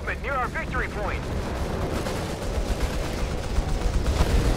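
An artillery bombardment in Company of Heroes 3 pounds on as a dense, continuous rumble of shell impacts and gunfire, with a commentator's voice talking over the opening moments.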